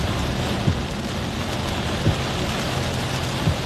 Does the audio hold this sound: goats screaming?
no